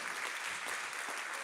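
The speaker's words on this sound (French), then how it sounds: "je voudrais qu'on dise vraiment un grand applaudissement, un grand merci à la famille hein, et à son président" An audience applauds in a continuous, even spread of clapping that stays faint and fairly distant at a Radio Maria gathering, with no distinct voices over it.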